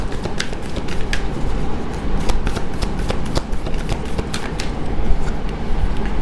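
Tarot cards are shuffled and drawn close at hand, giving a dense, continuous riffling flutter with sharp card snaps scattered through it and no voice.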